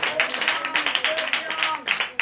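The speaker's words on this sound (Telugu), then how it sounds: "దగ్గరగా చప్పట్లు." A church congregation clapping hands in rhythm during worship, a fairly close, steady beat of many palms about three claps a second, under sung or spoken voices.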